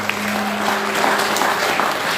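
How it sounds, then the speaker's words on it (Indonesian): A worship congregation claps together in steady applause during a service, dense and continuous, with faint sustained tones beneath. "Tepuk tangan untuk Tuhan kita."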